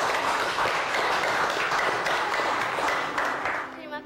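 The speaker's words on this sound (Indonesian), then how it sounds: "Tepuk tangan dong untuk Cindy" Children clap for Cindy, the winner of a fundraising contest: dense, loud applause lasting about four seconds, with voices mixed in, then fading at the end.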